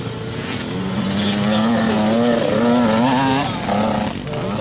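A small motorbike engine runs steadily and loud for several seconds, its pitch rising and falling slightly as the throttle shifts, with no talk over it.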